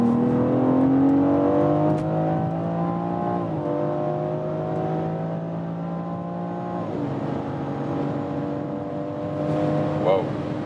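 BMW X4 M Competition SUV with 510 hp accelerating hard on winter tires, its engine note climbing steadily through gears with two shift drops, loud and continuous from inside the cabin.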